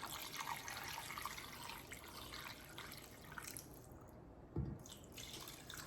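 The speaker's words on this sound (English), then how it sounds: "Last step is to add our 4 cups of water." Water being poured into a Dutch oven of Jamaican oxtails with butter beans, bay leaves and thyme, a soft continuous splashing flow, faint and close, with a brief louder slosh near the end.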